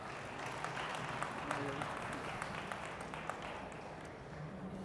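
Audience applause at a CeBIT conference panel discussion, steady and fairly faint, filling the room with a dense wash of clapping for a speaker being introduced, with voices mixed underneath.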